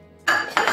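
Plates and dishes clink together as a Beko DIS25010 compact dishwasher is loaded, a quiet moment followed by several close, bright clattering knocks of ceramic against the rack.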